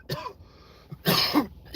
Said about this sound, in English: I don't even know why I'm coughing right now.